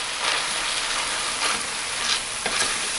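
Ground meat for spaghetti sauce sizzles and fries in a pan while a spatula scrapes and breaks it up, a close, constant hiss with brief stirring swells.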